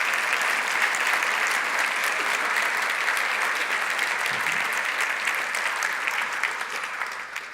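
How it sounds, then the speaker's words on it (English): Sustained, dense applause from a large audience at a State of the City address, honoring the city council; even, continuous clapping fills the whole stretch without speech. "Please give them a round of applause."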